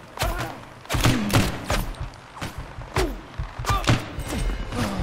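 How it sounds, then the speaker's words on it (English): Repeated sharp gunshots in a video game crack out in uneven bursts, loud and close, with thuds and clattering between shots. "They're still firing at us."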